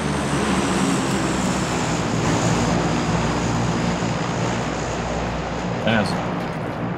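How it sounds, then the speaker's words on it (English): A propeller airplane drones in PUBG as a loud, continuous engine hum under people talking, with a faint short clatter near the end. "a plane just dropped to our northeast, across the street"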